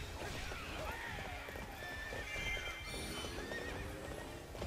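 A horse in the Hyrule Warriors video game gallops with rapid clip-clop hoofbeats and neighs repeatedly amid dense battle noise, with a faint voice underneath.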